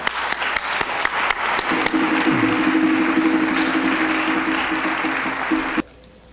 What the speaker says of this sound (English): Ladies and gentlemen, please give a round of applause up to the stage.